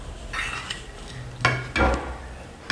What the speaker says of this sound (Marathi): आता आपण हा मसाला एका बाउलमध्ये काढून घेऊयात